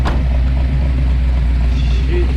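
A deep, throaty 650hp 1971 Chevrolet Camaro split bumper engine rumbles steadily at close range, a loud low idle with a slight rise near the end.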